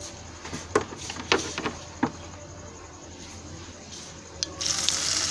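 A few light clinks and taps, then hot tadka tempering hits a dish of white lobia (black-eyed peas) with a sudden, loud, steady sizzling hiss close by.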